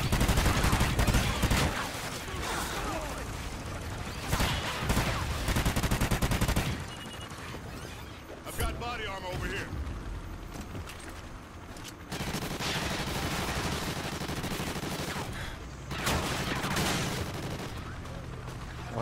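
Gunfire in the shooter game Extinction: Point of Contact, with dense bursts of rapid automatic fire broken by short pauses, loud and close, with voices faintly underneath.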